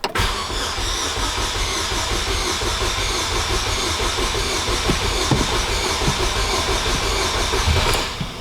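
The SlowBalt's engine cranks continuously with a rapid, rhythmic churning and rumble, loud and close, sputtering briefly as if about to catch before the cranking cuts off near the end.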